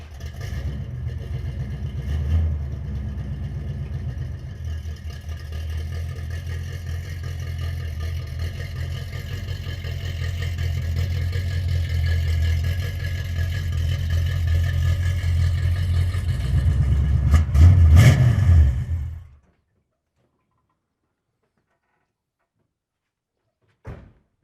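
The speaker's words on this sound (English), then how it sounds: "let's see if we can hear what a small block Chevelle sounds like" A small-block Chevelle engine runs loudly and steadily close by, its low rumble swelling as it revs near the end before cutting off abruptly into silence.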